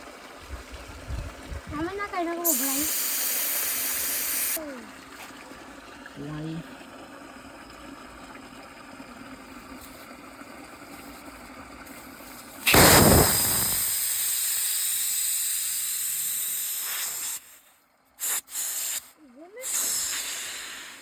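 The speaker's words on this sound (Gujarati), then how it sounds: "પહેલાં તો હવા કાઢ નાખવાની વ્હીલમાંથી" Air hisses out of a raised tractor tyre through its valve, coming as broadband bursts near 2.5–4.5 s and again loudly from about 12.8 s, with voices and handling noises in between.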